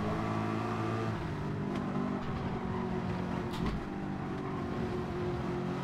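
A race car engine from the Gran Turismo video game drones steadily at high revs, a constant loud whine with shifting harmonics and a brief dip, close and continuous with no talk.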